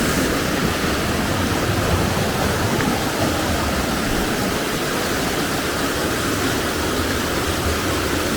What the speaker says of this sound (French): La petite rivière, elle est juste là.